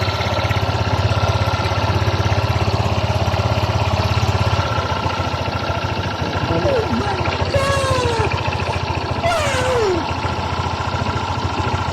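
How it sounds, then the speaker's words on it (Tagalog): A Honda Click 125 scooter idles after DIY work on its slider piece, CKP sensor and fuel filter. Its engine gives a steady, buzzy low drone, louder at first, while people talk over it. "paandar natin ang kanyang motor"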